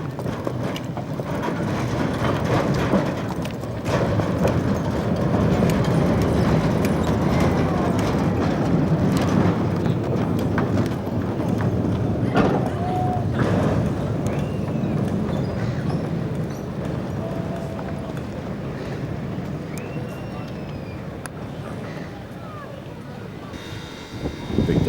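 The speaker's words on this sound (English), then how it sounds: "boasts the only horse-drawn tramway that operates daily anywhere in the world" Horse-drawn tram at Victor Harbour, with hooves clip-clopping steadily under a broad rumble of outdoor ambience throughout.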